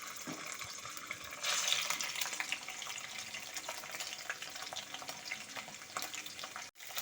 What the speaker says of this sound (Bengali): আমি চিকেনটাকে একটু তেলের মধ্যে ভাজা করে নিয়েছি